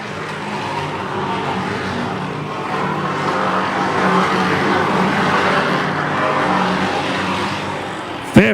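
Race cars roar around the oval at Lee USA Speedway in a sustained, loud engine drone from the pack, a sharp burst near the end, with talk faintly beneath.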